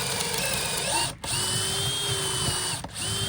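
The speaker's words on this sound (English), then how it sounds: "I'm going to drill into the wall and where I'm going to be putting my pocket holes" A power drill drives pocket holes into wooden battens using a pocket-hole jig, running steadily and loudly, with two brief pauses where the motor stops before spinning up again.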